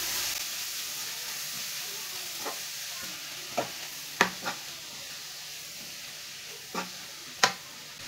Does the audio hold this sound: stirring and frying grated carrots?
yes